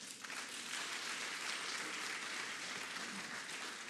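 Faint, distant applause from a ceremony crowd in Abidjan as Emmanuel Macron receives the keys of the city, an even patter of many hands clapping with no pauses.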